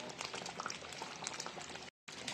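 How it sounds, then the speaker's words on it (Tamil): Spicy turkey berry kara kulambu bubbles and reduces in a pot, a steady dense simmering crackle heard close up, broken by a brief dropout near the end. "நம்ம ஊற்றின தண்ணி எல்லாம் நல்லா கொதிச்சு சூப்பராக சுண்டி வந்திருக்கு குழம்பு."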